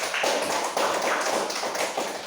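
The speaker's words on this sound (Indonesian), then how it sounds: "Kita beri tepuk tangan untuk Kelvin" A class applauding a student after a group presentation, a short burst of brisk clapping from a small room of people, fairly close and moderately loud, with a slightly uneven rhythm.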